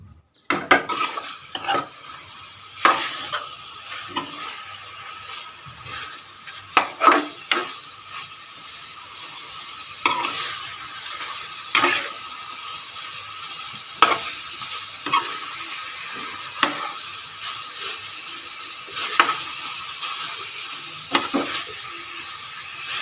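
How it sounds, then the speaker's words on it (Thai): Boiled pork belly going into a pan and being stirred for salty-sweet Thai braised pork, with a steady frying sizzle and repeated scraping, clinking strokes of a utensil against the pan at a moderate distance. "ตอนนี้พี่หอมจะใส่หมูแล้วนะคะ หมูสามชั้นที่เราต้มไว้อะ"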